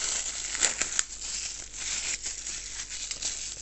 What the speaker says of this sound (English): Comes in a little shreddy plastic bag